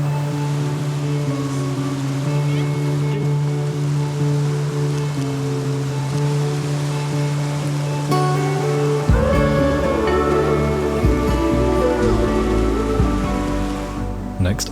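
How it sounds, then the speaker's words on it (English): A river rushing around a person standing in it, a broad steady roar of flowing water close by, with tonal music playing over it throughout. "she's surrounded by this rushing water"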